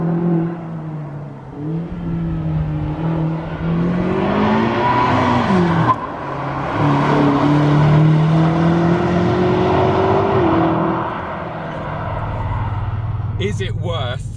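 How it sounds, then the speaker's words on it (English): A 2021 BMW M8 Competition coupe, 625 hp, loaded with two people and luggage, pulls hard uphill in fifth gear, its engine note droning and rising steadily from the cabin under continuous talk. "I'm in fifth now, put my foot down up here, and it just pulls fifth gear."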